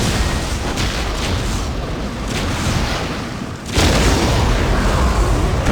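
Heavy artillery bombardment in Warhammer 40,000: Dawn of War – Winter Assault roars as a loud, dense, continuous wall of booms and explosions, surging even harder after a brief dip.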